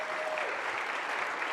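Dense, continuous audience applause at a sales training event, a broad even wash of many hands clapping throughout.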